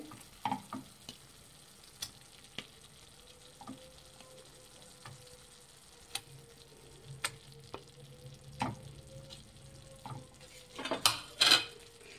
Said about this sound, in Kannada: ಫ್ರೆಂಡ್ಸ್, ಒಂದೊಂದಾಗಿ ಮೊಟ್ಟೆಗಳು ಹಾಕ್ಕೊಳ್ಳಿ ಇದಕ್ಕೆ.